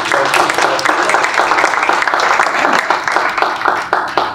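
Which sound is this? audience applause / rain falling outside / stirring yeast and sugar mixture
audience applause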